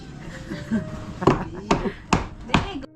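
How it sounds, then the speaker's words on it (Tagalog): A hammer strikes repeatedly during house construction, four sharp, close blows in quick succession at the end, after a stretch of faint background noise and low voices. "Martilyo, martilyo."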